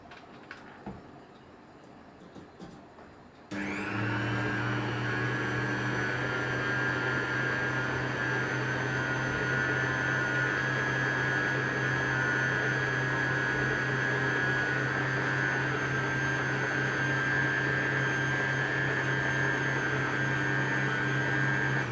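An electric mixer starts a few seconds in and runs as a loud, steady whir through birthday cake cookie dough, holding an even drone to the end after a quieter opening.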